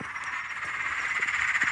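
A chorus of frogs croaks continuously at a garden fish pond made from a converted swimming pool, with rapid overlapping pulsing calls at a moderate distance and no speech.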